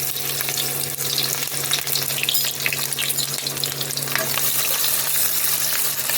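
Chopped onions fry in hot oil with a continuous close sizzle and occasional stirring scrapes, alone over a low steady hum.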